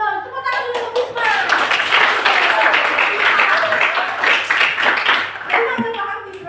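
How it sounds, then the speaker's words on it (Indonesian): A classroom full of people claps enthusiastically, a dense burst of applause that swells and then tapers off. "Tepuk tangan dulu untuk Bisma."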